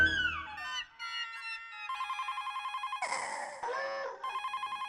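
A telephone rings with electronic, warbling tones in repeated pulsing bursts that shift pitch partway through. Musical sounds come first, and the ringing is loud and clear with no talk over it.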